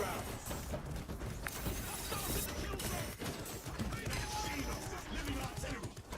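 Automated turrets open up on a Hive Tyrant in Space Marine 2, a dense, continuous clatter of rapid fire and mechanical rattling that runs the whole time under a busy battle din.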